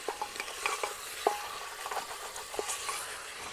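Pieces of mutton, goat meat with the head set aside, fry in a hot pan, a close sizzle broken by scraping stirs and light clinks of a utensil against the metal, with no voices.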